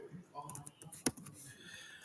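Quiet keystrokes on a computer keyboard while naming a document, a short scattered run of soft taps with one sharper click near the middle, faint and close.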